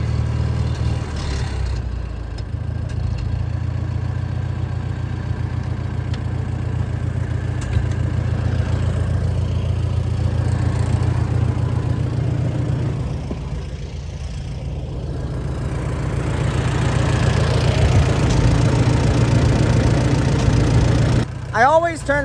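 A Farmall M tractor engine idles close by with a steady, low, even chug that holds for a long stretch before shutdown, while someone talks over it.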